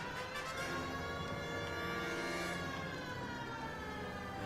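A police car siren in the video game LA Noire wails steadily and loudly, a continuous rising and falling tone layered over engine and road noise throughout, with no talk over it.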